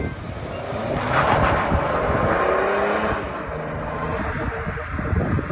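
A BMW F10 530d with an N57 diesel engine running 535d turbos and a quad-tip exhaust gives a steady, fairly loud engine rumble, close by, with wind buffeting the microphone throughout and no talking.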